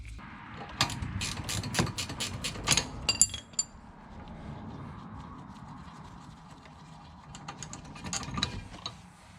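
A wrench works the 13 mm lower brake caliper bolt and 15 mm guide on a 2006-2010 VW Jetta MK5. It gives a close, steady series of ratcheting clicks and faint metallic clinks.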